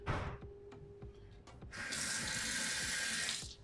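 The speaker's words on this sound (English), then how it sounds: "I'm gonna rinse this pH meter with distilled" A pH meter probe gets rinsed with distilled water at a lab sink, first in light splashes and drips, then a steady close stream of running water lasting nearly two seconds.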